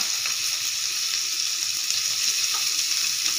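Chicken pieces fry in melted butter in a pan, giving a steady, close, bright sizzle that carries on without pause and without talk.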